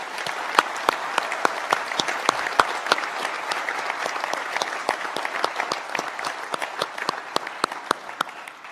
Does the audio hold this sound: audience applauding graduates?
yes